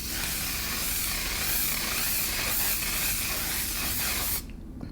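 A steady, close hiss of a fine mist setting spray runs continuously for over four seconds, then cuts off abruptly.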